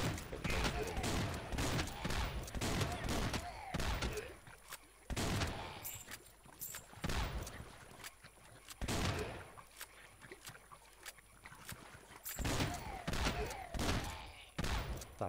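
Rapid gunfire from rats shooting rifles in the mobile game Swamp Attack, with repeated bursts of shots and thuds recurring throughout under a constant game soundtrack.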